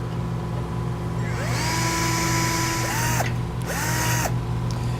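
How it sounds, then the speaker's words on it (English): A small drill bit bores a pilot hole in a steel Blue Ox base plate on a 2018 Chevrolet Sonic, the drill whining steadily with a couple of brief pitch dips as it bites, loud and close. "I'm going to come in with a small drill bit just to get the pilot hole started"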